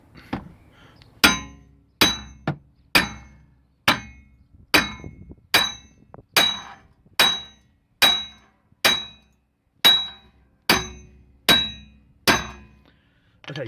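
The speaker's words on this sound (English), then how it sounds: "you just want to literally hammer as hard as you can, really hammer it down to try and hammer it off" Repeated hard hammer blows on the rear wheel bearing hub of a Mk3 Ford Mondeo, about fifteen sharp metallic strikes at a steady rhythm, each ringing briefly, loud and close.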